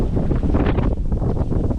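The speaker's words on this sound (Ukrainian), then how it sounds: "вітер дує" Strong wind in a snowstorm on the Seret River roars and buffets the microphone in continuous gusts, a loud rumbling blast with no speech.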